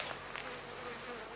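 Honeybees hum in a dense, continuous drone at an open nuc hive during an inspection, a close, steady buzz lasting only a moment, with no voices.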